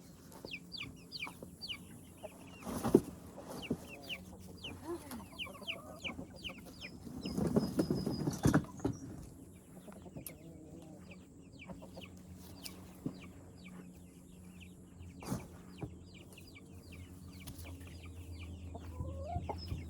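Two roosters cluck softly in a garden at the end of the growing season, short scattered clucks at moderate distance over a quiet outdoor background, with a few louder knocks and rustles in between.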